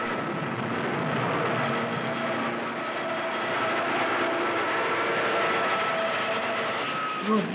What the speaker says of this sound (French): Les bombardiers américains commencent par pilonner la défense aérienne japonaise.